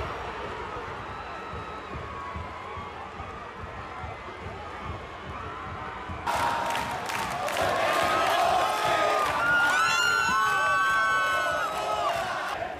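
Football fans of Saprissa in a Costa Rican stadium during the Apertura 2022 final against Herediano: a steady crowd roar swells into loud cheering with whoops and whistles after a goal, a dense, continuous mass of voices.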